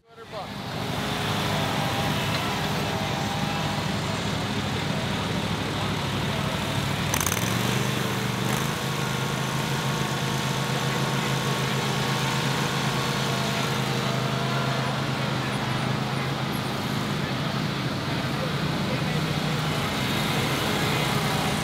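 The engine of a Bad Boy stand-on lawn mower at an outdoor equipment expo gives a continuous loud, close drone that shifts pitch partway through, while a person talks over it.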